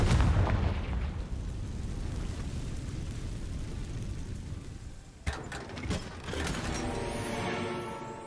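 Confringo blasting spell cast in the Hogwarts Legacy video game: a heavy, rumbling explosive burst that fades, then a sharp second crack and crackling blast about five seconds in, with no talking.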